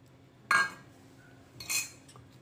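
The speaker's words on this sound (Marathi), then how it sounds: "आणि मिक्स करायचं" A spoon strikes and scrapes against a bowl while mixing banana pancake batter, giving two short, close clinks about a second apart over a quiet background.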